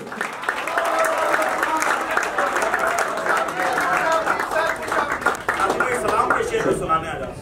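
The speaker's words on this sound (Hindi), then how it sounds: "आपकी भरपूर तालियों में" Sustained applause from a crowd at a poetry mushaira fills the whole stretch, dense and steady, fading slightly toward the end.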